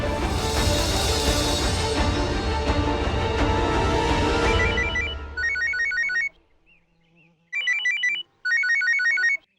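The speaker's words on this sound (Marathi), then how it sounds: "नीलचा फोन?" A phone ringtone plays loudly through music at first, then rings alone in repeated short melodic bursts separated by silence.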